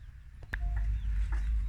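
Chickens on a farm make a few short clucks and squawks close by over a low rumbling background, with no one talking.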